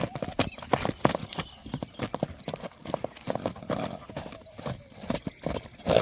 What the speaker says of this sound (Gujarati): એ ઘોડી